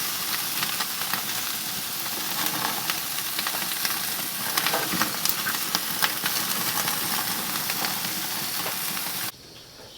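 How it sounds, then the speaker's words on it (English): Lamb chops sizzle and crackle in a hot pan as they char, a dense, steady frying hiss with scattered pops, close and continuous until it cuts off near the end. "we're going to finish getting these charred up"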